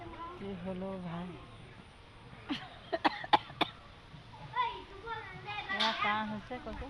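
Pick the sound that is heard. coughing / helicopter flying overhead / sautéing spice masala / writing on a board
coughing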